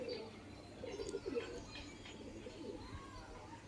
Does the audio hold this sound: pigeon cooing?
yes